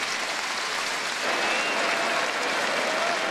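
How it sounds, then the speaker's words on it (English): A big stadium crowd in Tallahassee applauds during a Syracuse at Florida State college football game, a dense, steady wash of clapping that swells slightly midway and continues without a break. "he'll get a nice round of applause from this big crowd here in Tallahassee"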